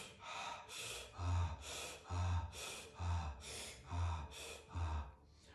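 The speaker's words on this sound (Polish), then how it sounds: "Jeśli to był już oddech szybszy," Rapid, rhythmic breathing in a breathwork session: about six quick, forceful inhale-exhale cycles at a steady pace, close and clear, with no talking.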